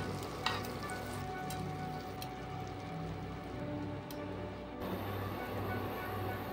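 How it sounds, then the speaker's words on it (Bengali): Bread slices toasting in a frying pan with leftover oil and butter, a steady close sizzle with faint scraping throughout. "ফ্রাইং প্যানে যেটুকু তেল আছে তার সাথে একটু মাখন দিয়ে আমি পাউরুটিগুলো সেঁকে নেব"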